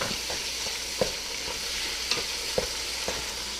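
About 1.5 pounds of lean ground beef sizzles in a pan with a continuous hiss, punctuated by several soft scrapes and knocks of stirring, close and steady.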